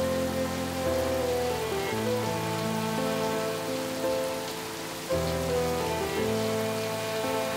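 Rain falls steadily on a surface, a constant close hiss of drops with a faint low hum running beneath it.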